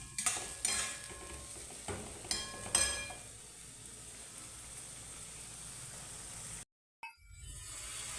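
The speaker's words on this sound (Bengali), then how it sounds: "মশলাটা ভালো করে কষাতে হবে একটু" Spice masala for a fish curry being stirred and fried in a pan, a soft steady sizzle with several metallic clangs and scrapes of a utensil against the pan in the first few seconds.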